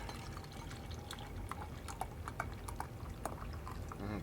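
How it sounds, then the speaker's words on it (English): Beer poured from a bottle into a glass, a quiet glugging trickle with small splashes and fizzing drips over a low background hum. "let's give it the old pour"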